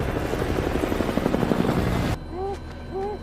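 Loud, steady helicopter rotor thumping dominates for about two seconds, then cuts to a quieter scene with faint tonal sounds and background hum.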